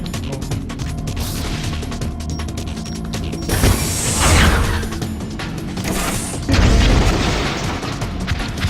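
In the video game Metal Gear Solid: The Twin Snakes, rockets fire during the Metal Gear Rex battle. Two loud booming blasts with rushing roars break over a steady mechanical game soundtrack.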